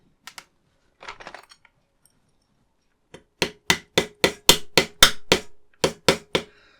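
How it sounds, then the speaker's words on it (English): Sharp hammer taps ring out as parts are driven into a RMS Titanic scale model, first a couple of isolated hits, then a quick run of about ten evenly spaced, crisp strikes close by. "So I've used my hammer to drive those all the way in."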